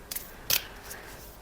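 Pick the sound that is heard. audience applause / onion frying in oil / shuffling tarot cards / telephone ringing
shuffling tarot cards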